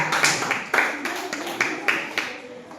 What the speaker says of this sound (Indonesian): kasih aplaus untuk Nesila